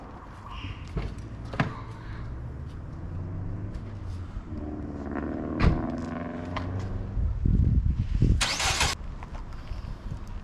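A freshly cleaned, formerly neglected commuter car cranks and its engine catches, then settles into a steady mid-pitched idle while it is pulled out. A brief burst of noise comes late, and there is no talk.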